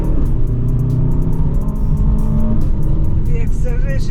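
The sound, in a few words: 2022 Aston Martin DBX 707 accelerating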